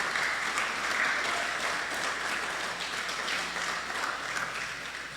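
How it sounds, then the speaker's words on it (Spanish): A church congregation applauds steadily, a thick wash of many hands clapping that stays even and loud throughout, with a faint voice underneath. "Démosle un aplauso al Señor"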